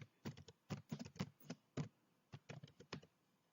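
Keystrokes on a computer keyboard while entering a monthly total into a spreadsheet, arriving in quick irregular bursts of crisp taps with short pauses between, close and quiet, with no talking.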